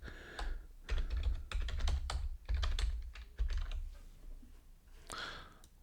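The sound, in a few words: typing a website address on a computer keyboard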